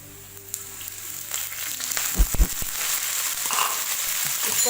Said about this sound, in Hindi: इसको हम फ्राई करें।